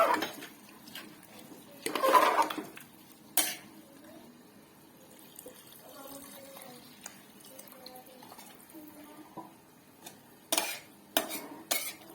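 A metal spoon scrapes and clinks against a pot of chicken pulao after water has been added, with intermittent stirring knocks and clatter spread across a quiet kitchen background.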